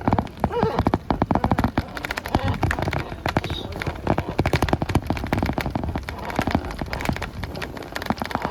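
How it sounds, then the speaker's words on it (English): Rain falls steadily with dense, irregular patter and sharp drops hitting a surface close by, loud and continuous throughout. "It's raining."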